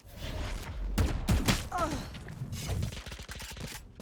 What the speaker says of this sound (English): Stray shots being exchanged over towards mid, and Poi couldn't quite confirm the kill